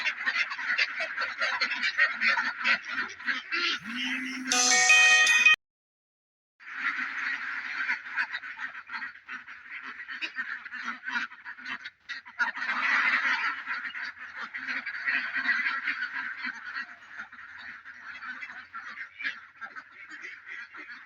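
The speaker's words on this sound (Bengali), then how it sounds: "ওদের খাবারের সময় হয়ে গেছে খিদে পেয়ে গেছে এখন ওরা ডাকা ডাকি আরম্ভ করে দিই" A flock of ducks on a duck farm call loudly at feeding time, a dense, continuous chorus of nasal quacks and honks close by, broken by one brief silence before the calling resumes.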